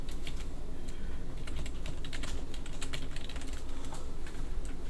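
Rapid, close keystrokes clatter on a computer keyboard as a drafting command is typed, a steady run of clicks with no talking.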